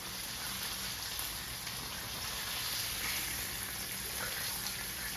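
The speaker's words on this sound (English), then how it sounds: "I love that sound, frying chicken." Steady, dense sizzling and crackling of Southern fried chicken frying in hot oil, a continuous hiss with no talking.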